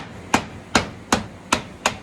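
Five sharp hammer blows knock apart a woodworking setup meant for a drill press, evenly spaced at a steady rhythm, each a loud close crack with a short ring-out.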